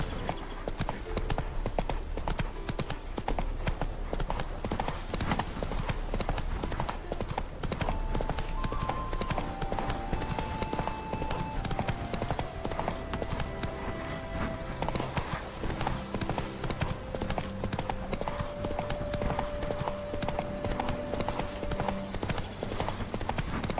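In The Witcher 3 video game, a horse gallops with fast, steady clip-clop hoofbeats that continue for the whole stretch, loud and close, alongside sustained game music tones.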